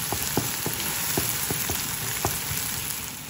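Garlic and a dab of tomato paste sauté in a pan, a steady dense sizzle with scattered sharp pops and crackles running throughout, fairly close and with no talking.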